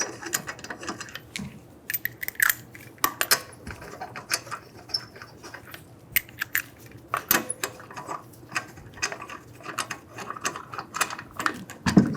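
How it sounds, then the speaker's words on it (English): A ratchet tightens the rear wheel lug nuts on a 2011-2014 Hyundai Sonata: repeated short bursts of close, crisp clicking with brief pauses between strokes and no talking. "Install the wheel. Get the lug nuts started."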